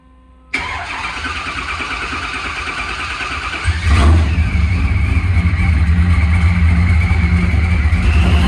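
A boosted Chevy small-block V8 in an S10 truck cranks and fires, then idles rough and loud before revving harder and settling into a throaty, aggressive drone close by.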